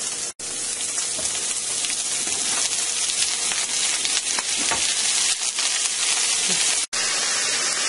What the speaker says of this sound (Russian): Масло нагрел. Высыпаем, обжариваем лук.